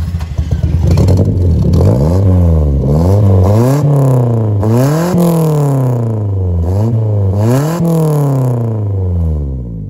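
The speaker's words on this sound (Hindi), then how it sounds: "मैं अभी आपको इसका एग्जॉस्ट ऑन करके आप लोगों को इसका साउंड चेक करवाता हूँ" A modified Willys Jeep converted to a 4x4, its engine and aftermarket exhaust revving hard again and again in loud, close bursts that rise and fall in steady cycles for the whole stretch.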